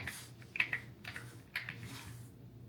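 Keys tapped on a computer keyboard during software setup, a few quick clustered clicks in two short bursts, close and fairly quiet over low room hum, no talking.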